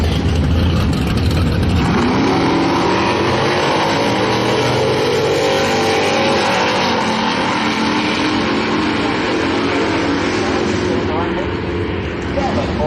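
A nostalgia muscle car accelerates down a drag strip at a 2007 NSS event in Saint Louis, a loud, sustained engine roar that builds after a couple of seconds and carries on under an announcer's voice.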